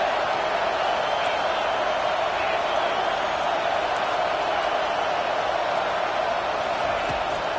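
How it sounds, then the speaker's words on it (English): A football stadium crowd roars steadily on third down in a Buffs versus LSU game, a dense, continuous wash of cheering that holds loud throughout while a commentator talks over it. "Decibels rising as the crowd gets behind this defense on third down."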